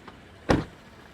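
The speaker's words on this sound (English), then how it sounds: "close the door" A truck door shuts with one sharp thud, and the AMP Research PowerSteps power running boards retract softly around it, close and alone.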